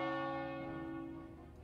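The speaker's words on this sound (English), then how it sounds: "It feels good to ring the bell." A church bell tolls once in World of Warcraft: Wrath of the Lich King, its deep ringing tone slowly decaying with no talk over it.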